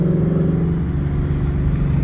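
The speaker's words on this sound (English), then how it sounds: "I never knew that exhaust in that car would be that radical" Loud exhaust drone from a Mustang at a blue-themed car show meet, a steady deep idle rumble close by with no pauses across the whole stretch.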